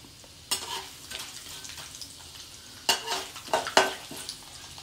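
Mustard seeds and urad dal frying in oil for a tempering, a soft continuous sizzle broken by several sharp spatula scrapes and pan clatters, with no talking.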